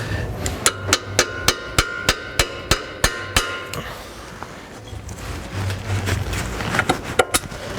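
A hammer strikes a damaged control arm on a 2012 Subaru Forester to flatten it. About ten sharp, close metallic blows land in an even rhythm, followed by a pause and then a few scattered hits.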